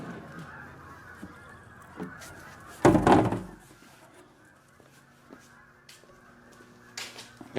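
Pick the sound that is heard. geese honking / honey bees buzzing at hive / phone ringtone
geese honking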